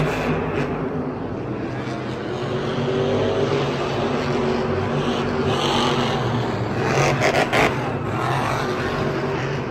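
Monster trucks, including Gravedigger, race head-to-head in a Monster Jam stadium show in Glendale, a loud sustained engine roar with rising revs and crowd din, steady and close for the whole stretch.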